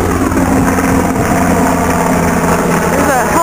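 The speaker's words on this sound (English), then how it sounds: "There's a helicopter going over me and it's loud and it's messing everything up" A big helicopter passes low overhead outdoors on a clear day, its loud, steady engine and rotor drone filling the whole stretch without letting up.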